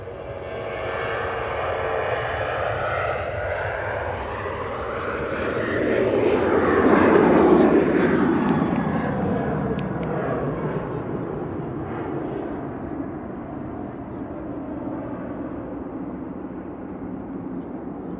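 Ryanair airliner departing Manchester Airport, its jet engine roar building to a loud peak as it rolls and climbs, then easing into a steady distant rumble.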